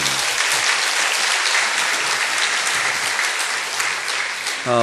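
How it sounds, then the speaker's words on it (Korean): A church congregation gives sustained, loud applause during a worship service greeting a pastor, dense clapping filling the whole stretch at steady volume, with no talking over it. "여러분들이 박수로 한번 다시 격려해 주시기 바랍니다"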